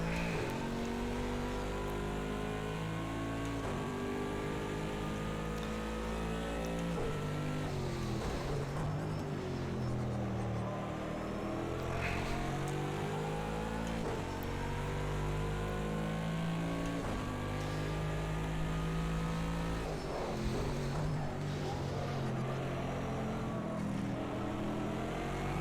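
Race car engines roaring in Project CARS 2 at Bathurst during a 12-hour endurance race, a steady loud drone rising and falling in pitch through gear changes and corners for the whole stretch, with no talking.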